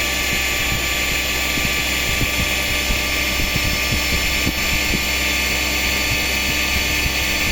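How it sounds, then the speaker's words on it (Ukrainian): The small petrol engine of a log splitter screams steadily at very high revs, around 10,000 rpm, a constant high-pitched whine with a buzzing drone underneath, close and loud throughout. "Двигун приблизно 10 тисяч обертів, навіть більше."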